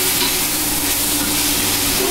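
Venison nacho filling stirred in a hot pan, a steady loud sizzle with scraping of the spoon, continuous and close, no voices.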